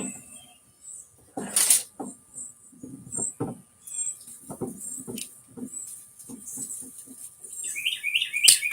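Small bird chirping repeatedly near a porch nest, bright tweets scattered through the clip over intermittent low knocks and handling noise, with a faster burst of calls at the end.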